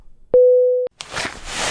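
A telephone busy tone sounds once after a call ends, a single steady electronic beep about half a second long, followed by a muffled rustle of room noise.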